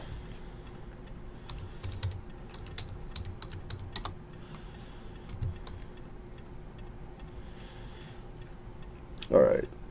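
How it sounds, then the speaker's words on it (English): Typing on a computer keyboard with irregular clicking bursts at moderate distance, followed by a brief louder clunk near the end, with no talking during the keystrokes. "Let me go ahead and type that in."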